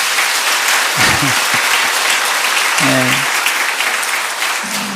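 Steady, full applause from a church congregation filling the room, with a man's brief spoken words rising over the clapping now and then.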